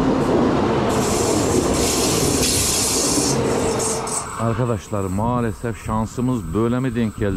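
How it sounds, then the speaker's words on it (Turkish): An evening train rolls past a caravan campsite beside the railway line in Switzerland, a loud close rumble with wheel squeal and hiss for several seconds, then fading as someone talks over the tail of it. "Akşam trenimiz de geçiyor."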